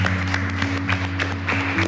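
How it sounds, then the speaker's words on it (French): Brief, moderate applause from a reality dating game show audience for an eliminated contestant, with scattered claps over a steady low hum. "Keia, malheureusement, on applaudit Keia."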